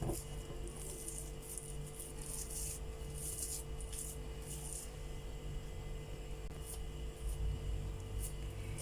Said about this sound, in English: we are going to take out about 1/4 of the dough to grate over the tart